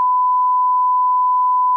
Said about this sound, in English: We're gonna beep that out.